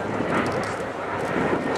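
A loud, steady droning roar of a PBY-5A Catalina flying boat's 28-cylinder radial engines passing close by at an air show, continuous and rumbling throughout.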